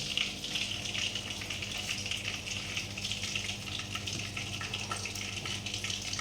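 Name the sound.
fennel seeds frying in oil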